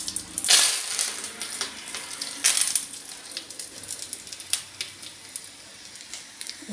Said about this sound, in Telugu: కరివేపాకు వేస్తున్నాను